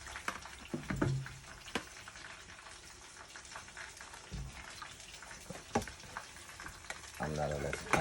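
Rice tossed into a hot pan, giving a soft ongoing fry with scattered scraping and stirring clicks, fairly quiet throughout.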